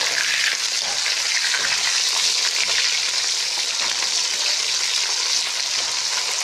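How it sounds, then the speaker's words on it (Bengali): Small fresh hilsa fish frying in a pan give off a steady, loud, continuous sizzle with no talking over it. "টাটকা মাছ ভাজতে আনন্দই আলাদা। এটা ছোট ইলিশ।"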